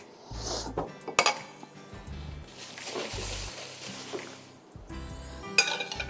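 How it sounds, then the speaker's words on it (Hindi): Metal cookware clanks and clinks as a cooking pan is pulled out in a kitchen, with a few sharp knocks and scrapes separated by quieter pauses. "एक पैन ले लेते हैं"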